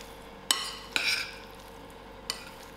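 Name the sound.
mixing spicy mackerel fish cake ingredients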